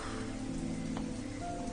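Heavy rain falls steadily in a dense, even hiss with no break and no voices.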